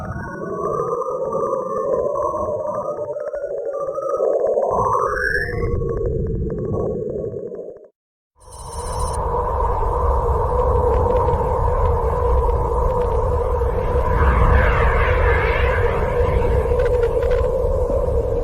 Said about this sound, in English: this is another sample of ghostly radio emissions from the planet